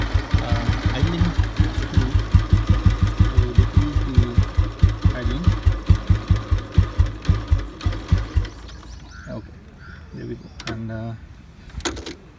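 A cold 1968 Royal Enfield Bullet motorcycle engine idles close by with a steady, loud, thumping beat for about eight seconds, then cuts out, followed by someone talking.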